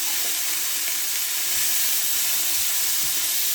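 Green peas and corn are tipped into a hot pan of vegetable fried rice, producing a continuous loud hiss and sizzle, close by, with a few soft low knocks and no talking.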